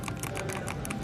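Someone types on a clicky ASUS ROG Strix Scope keyboard in a retail store, giving a quick, even run of sharp key clicks, close and fairly quiet.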